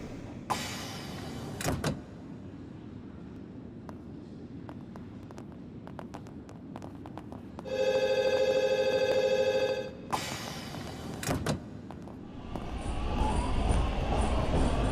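Train in a video game rolling along rails, with clattering wheel rumble, sharp bursts of squeal, a steady chiming tone in the middle and a rising roar near the end.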